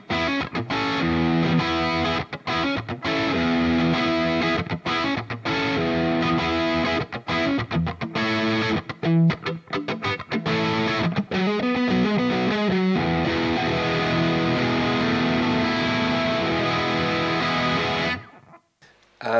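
Crunchy, lightly overdriven electric guitar through an edge-of-breakup amp tone plays rhythmic chords and riffs, close and loud, with short pauses between phrases before ringing out and stopping.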